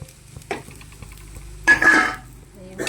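Roasted masala tipped into a pan of browned onions for Kashmiri chicken masala, giving a soft scrape at first, then a loud rush of sizzling and spoon scraping, faint clatters between, and another burst at the end.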